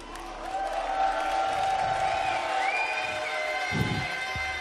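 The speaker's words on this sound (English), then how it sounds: "There's so much going on in this crowd" LATAM and EU fans cheer and shout at the Six Berlin Major grand final, a dense arena crowd roar running steadily throughout with a louder burst of shouting near the end.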